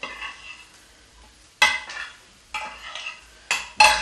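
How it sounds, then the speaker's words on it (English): A spoon stirring food in a cooking pot, several short scraping clinks spaced about a second apart against a quiet background, close and clear. "Give it a little stir."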